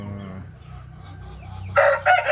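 Brahma chickens in a free-range yard, a low steady clucking followed by a loud, close crow-like call near the end.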